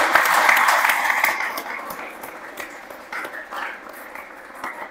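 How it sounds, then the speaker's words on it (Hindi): An audience in a classroom session applauds for India's scientists, a dense burst of clapping that starts strong and gradually thins out into scattered claps. "ताली तो होनी चाहिए हमारे साइंटिस्ट को।"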